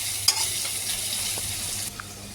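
Onions, added after a bay leaf, fry in a pan with a loud, steady hiss that runs throughout, punctuated by a few small taps and pops before it briefly eases.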